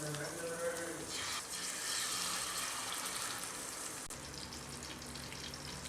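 Sardines (salai fish) coated with egg white fry in a pan with a steady, broad sizzle that holds at an even level from start to end, with a faint voice in the background.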